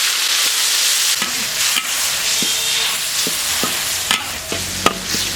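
Bean paste hits hot leftover oil in a wok with a loud continuous sizzle, while a spatula stirs and scrapes against the metal in irregular clicks and knocks, close up and without talk.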